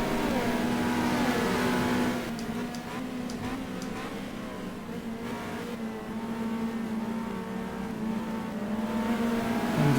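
Race car engine in the racing game GTR2 at Monza, droning steadily at high revs, loud and close throughout, with faint ticking clicks over the hum and no voices.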